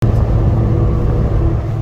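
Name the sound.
Lamborghini STO overtaking the car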